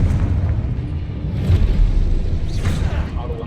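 A Confringo blasting spell explodes in Hogwarts Legacy, giving a sustained low boom and rumble with a few sharper bursts layered on top, loud and continuous for several seconds.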